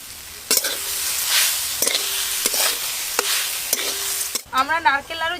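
Grated coconut and sugar stirred in a kadai for a pitha recipe, a spoon scraping the pan in a few distinct strokes over a soft sizzle, close by, with a brief voice near the end.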